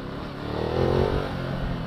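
A Ducati 1200cc motorcycle engine roars in a short burst, the throttle swelling to a peak then easing off, loud and close with a rough low rumble.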